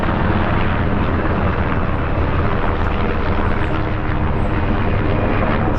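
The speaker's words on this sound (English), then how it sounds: "That looks like a medic helicopter." Loud, steady roar of a medical helicopter passing close overhead, a dense rumbling engine and rotor noise that holds constant throughout.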